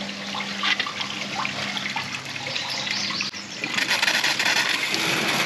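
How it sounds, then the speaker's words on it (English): An RV black water tank flush runs water through a hose at a provincial park campground, making a steady, close rushing and gushing of water that swells louder partway through. "So now I'm going to turn on the black water flush."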